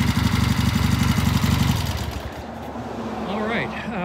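Vintage British motorcycle engine runs at a steady, loud, throbbing idle, then cuts off and winds down to quiet as a voice speaks nearby.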